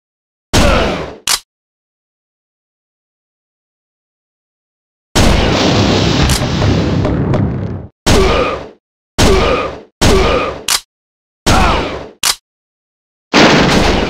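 Machine gun fire in the Virtua Cop II arcade shooter on PC: loud, sharp bursts separated by silence, one long sustained burst and several short clipped ones, close and punchy.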